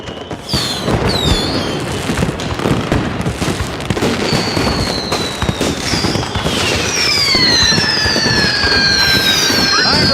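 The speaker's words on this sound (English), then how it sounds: "always say, Mike, if you're going to fire your fireworks out of your car, park it" Fireworks going off in a loud, dense barrage of crackles and pops, with several shrill whistling rockets rising and fading over the top throughout.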